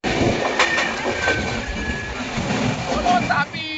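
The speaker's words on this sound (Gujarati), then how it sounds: "તો અહીંયા અમારી ટ્રેન ચાલુ થઈ ચૂકી છે." A passenger train runs on its rails, rumbling steadily and close with faint wheel squeals and clatter throughout, heard from inside a carriage.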